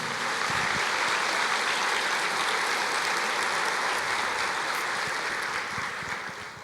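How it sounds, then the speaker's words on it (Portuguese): A church congregation applauds in a thick, continuous burst of clapping that stays full and loud, easing off slightly near the end. "Pode aplaudir o Senhor."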